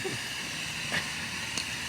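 A G scale live steam locomotive on a garden railway gives off a continuous broad hiss of steam, steady and fairly loud throughout, with a couple of brief soft knocks and no talking.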